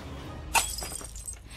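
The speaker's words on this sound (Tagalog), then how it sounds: "Nabitawan na nito ang bote at nabasag" A glass bottle drops and shatters as a radio drama sound effect, one sharp crash followed by a short scatter of tinkling shards over a quiet background.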